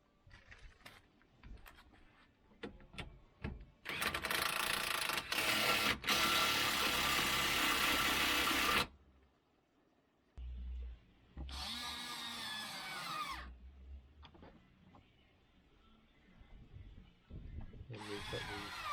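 An impact power tool runs on the lower rear shock absorber bolt of a Vauxhall Corsa D, close and loud. It comes in two long whirring bursts broken by short gaps and light clinks, then starts a brief third run at the end.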